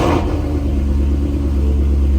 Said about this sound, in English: I guess I can give y'all a cool start from the inside